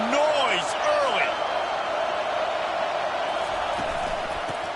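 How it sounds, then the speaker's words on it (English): A college football stadium crowd roars in a broad, continuous wash of noise, with a commentator's voice cutting through near the start. "This crowd bringing the energy and noise early."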